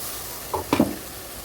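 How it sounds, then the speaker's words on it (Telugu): Ginger paste and onions sizzle softly in a pan for an Andhra-style brinjal curry, with a couple of brief stirring scrapes over a low, steady frying hiss. "కొంచెం అంత అల్లం పేస్ట్ కూడా వేసేస్తే అది కూడా వేగుతుందండి"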